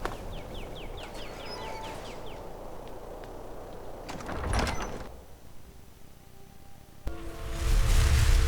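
In the video game Skyrim, the main door of Shriekwind Bastion opens with a loud sliding, grinding mechanism near the middle. Outdoor ambience and chirping birds run beneath it, and a deep rumble follows as the door finishes opening.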